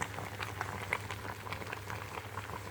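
Jackfruit boils in a pot, with continuous close bubbling and irregular pops over a steady low hum, fairly loud with no voices.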